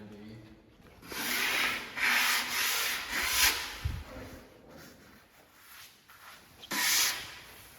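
Freshly sawmilled lumber being scraped by hand, a series of close, loud rasping strokes in bursts with brief pauses between them.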